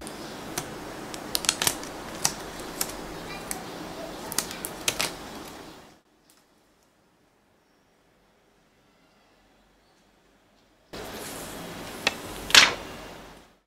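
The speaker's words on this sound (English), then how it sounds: "switch to the special screen protector peeling cam" Protective plastic film is peeled off a new Samsung Galaxy S4 Zoom: crisp crackling and ticking close up, then several seconds of silence, then a brief second burst of crinkling that ends in a sharp ripping peel.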